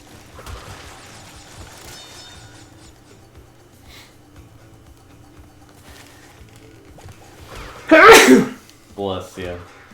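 A single loud, sharp sneeze bursts out near the mic, cutting over quiet background game sounds and a few soft voiced noises that follow.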